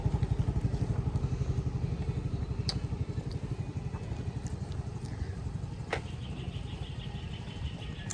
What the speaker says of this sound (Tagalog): pinandar ko muna yung motor kasi nakatanggal lang siya ng ilang days